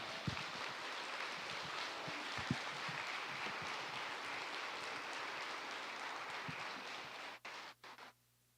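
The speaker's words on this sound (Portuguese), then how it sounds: "Pode aplaudir de verdade," A church congregation claps in a sustained, faint and distant wash of applause that holds evenly, then breaks off into a few scattered claps near the end.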